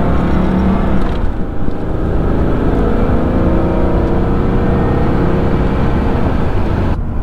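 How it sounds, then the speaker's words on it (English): 1988 Oldsmobile Cutlass Supreme engine and exhaust while driving, a loud continuous low rumble with steady road noise and a slight rise in revs, heard from inside the car. "first impressions of the drive is the exhaust. First thing I notice, and it's that sound, unique."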